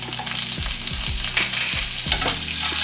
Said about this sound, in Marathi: मीडियम गॅसवर फ्राय करून घ्यायचं.